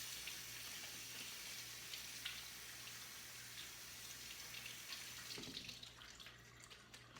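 Tap water runs steadily over a vegetable being rinsed before draining in a colander, a continuous faint splashing stream with slight changes in tone as it is moved under the flow.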